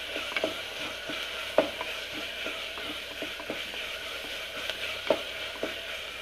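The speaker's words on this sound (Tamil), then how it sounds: "அந்த இஞ்சி பூண்டு வாட போகிற அளவுக்கு கொஞ்சம் நல்லா வதங்கட்டும்" Ginger and garlic sautéing in a pan for a kodo millet vegetable biryani make a quiet, continuous sizzle, punctuated by light scattered clicks and scrapes of stirring.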